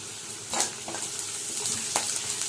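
Onions frying in a pan with a soft continuous sizzle, punctuated by a few quick stirring scrapes and light utensil clinks against the pan, close and fairly quiet, with no speech.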